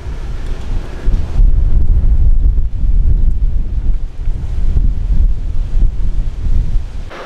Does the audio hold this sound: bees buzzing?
no